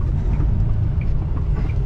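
A Peterbilt truck engine gives a deep, steady rumble at close range, with the throb holding constant and no voices over it.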